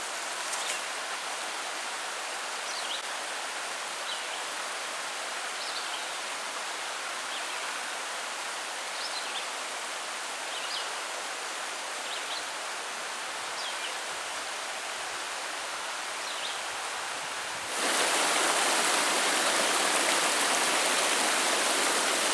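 A river flows steadily in Deer River State Forest, a constant broad rushing wash with faint bird chirps scattered over it; the rush grows noticeably louder near the end.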